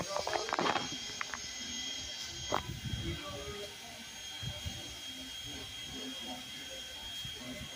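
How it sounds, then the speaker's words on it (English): A steam locomotive's air compressor chugs and hisses irregularly at a moderate distance, with sharp bursts near the start, then a softer ongoing rumble and hiss. "That's the air compressor."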